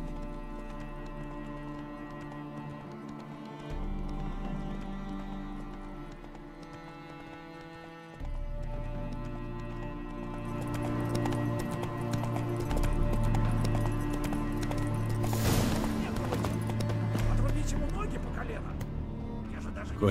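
Horse hooves clip-clopping in The Witcher 3, a steady rhythmic trot mixed with game music and ambience, with voices speaking over parts of it.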